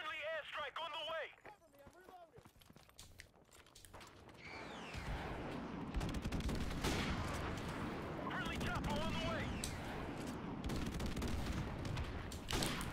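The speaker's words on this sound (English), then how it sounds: "Friendly airstrike on the way." A friendly airstrike pounds the battlefield in Modern Warfare Remastered multiplayer, a dense, continuous roll of distant explosions and gunfire building after a quieter start with brief radio-style voice bursts.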